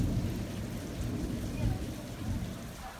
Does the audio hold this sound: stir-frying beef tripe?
no